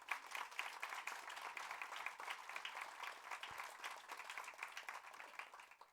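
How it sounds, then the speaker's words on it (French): A studio audience claps for a singer at a French TV music show, a sustained dense patter of hands at fairly low level, continuous and even with no talk over it. "Vous pouvez encore l'applaudir très très fort"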